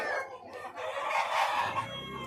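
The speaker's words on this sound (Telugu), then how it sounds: "చాలా ఉన్నాయి కోళ్ళు" A rooster crows loudly and close among a flock of chickens, with hens clucking underneath, at a poultry yard near Nagasamudram, Karnataka.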